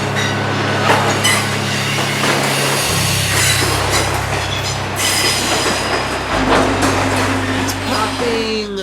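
Norfolk Southern 282 freight train pulling out of the south end of Inman Yard, close and loud, with heavy rumbling engines, clattering railcars, and squealing wheels, plus a faint voice underneath.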